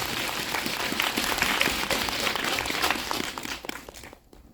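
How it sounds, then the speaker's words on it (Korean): Audience applause at a film festival community event, a dense round of clapping that holds steady for several seconds before dying away near the end. "박수 보내주세요."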